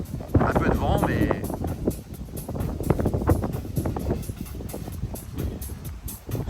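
Wind buffets an outdoor microphone at a countryside wedding venue lined with trees, a steady low rumble that runs under speech throughout.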